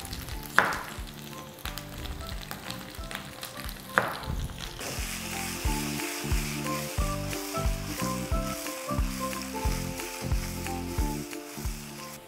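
Potato slices fry in a pan with a steady, close sizzle and crackle, broken by a couple of sharp clatters of a spatula or utensil at the start.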